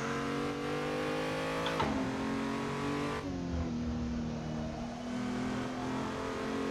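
A BMW race car engine in a virtual racing game revs and climbs in pitch, dropping sharply at two gear shifts before rising again, loud and close with no talking.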